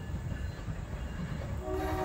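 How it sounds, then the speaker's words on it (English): A train rumbles past at moderate distance, a continuous low rolling roar with a faint tonal horn-like line creeping in near the end. "Honestly, there's that train there."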